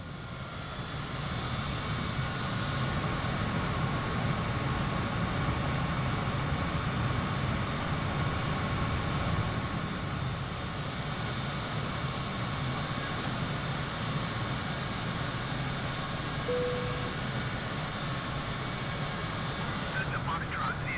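In the video game Microsoft Flight Simulator, a Cessna aircraft engine drones at a steady loud, dense roar through a takeoff run, with a voice talking over it.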